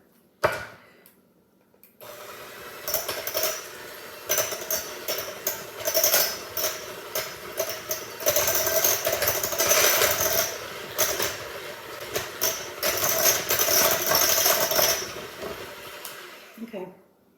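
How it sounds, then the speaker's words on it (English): An electric hand mixer whirs for about fifteen seconds while beating cupcake batter in a bowl. The loudness rises and falls as the beaters knock and scrape against the sides. "hand mixer."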